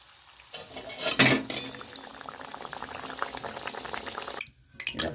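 Naan puri dough frying in hot oil gives a steady bubbling sizzle, with a loud burst of spattering early on and a clatter of utensils near the end.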